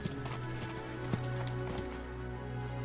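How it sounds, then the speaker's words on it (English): Horse hooves clatter in a steady galloping rhythm on a Dynasty Warriors 8 battlefield, fairly close and continuous over a low background hum, with one sharper accented hoofbeat midway. "Someone! A horse! At once!"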